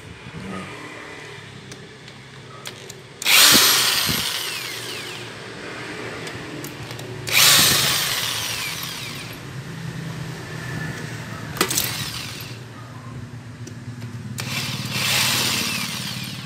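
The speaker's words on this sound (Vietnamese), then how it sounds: "Để mình lấy mũi khoan mình tháo cho nó mau các bạn." A power drill backs the screws out of a Senko electric fan, several separate loud whirring bursts of a few seconds each against a quiet workshop background.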